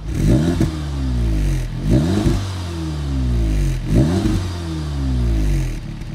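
Audi S3 engine blipped hard a few times: three loud rising revs with a deep throaty roar, each dropping back to idle in between, heard up close with no talking.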